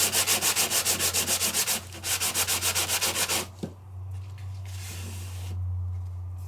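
A handheld sanding gadget rubbing film off raised embossing in quick, regular rasping strokes, loud and close, then stopping abruptly and leaving a soft hum with faint scraping.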